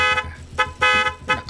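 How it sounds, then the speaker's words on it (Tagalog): A car horn honks four times in quick, uneven bursts, loud and close, over a low engine rumble. "Ay nagpiksa mo't ti panagbusina mon pare."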